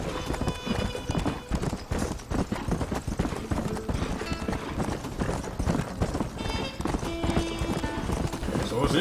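A horse gallops in the Western video game Red Dead Redemption, its hooves clip-clopping in a rapid, continuous rhythm close by. Snorts and a whinny mix with faint in-game voices throughout.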